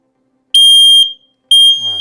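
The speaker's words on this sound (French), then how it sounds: "Voilà, ça marche, celui-là sonne. Et ça y est, les deux autres sonnent maintenant." X-Sense XS01-WR interconnected smoke detectors sounding indoors: two loud, piercing electronic alarm beeps, each about half a second long, from close by with a pause between them.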